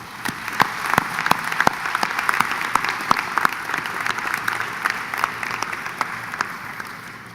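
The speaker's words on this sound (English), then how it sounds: "a round of applause." Sustained applause from a commencement ceremony audience, dense and steady for the full stretch, with sharper individual claps standing out near the front of the crowd.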